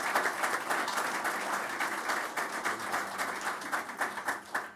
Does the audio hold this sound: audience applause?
yes